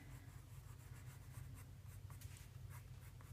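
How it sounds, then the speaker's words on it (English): A yellow coloured pencil shades on paper in a soft, continuous scratching with light repeated strokes, faint and close over a low steady hum. "now I'm going to come along with that same yellow pencil and add a little bit of highlighting on the left side"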